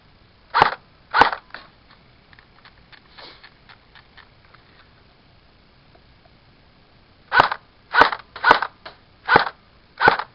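Airsoft gun shooting BBs outdoors: two sharp snapping shots, a quiet gap, then a quick burst of five cracks in an uneven rhythm, close and loud against near silence.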